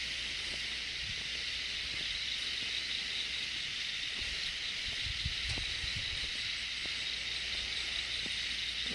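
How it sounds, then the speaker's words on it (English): Cicadas buzz steadily outdoors at Fall Creek Falls in fall, a dense continuous high drone that holds level throughout with no talk, over faint low rumbles and scattered small knocks. "of course, hearing the cicadas"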